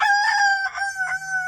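A rooster crows loudly and close among a chicken flock, giving one long, strained call followed by a second, shorter burst, with no talking.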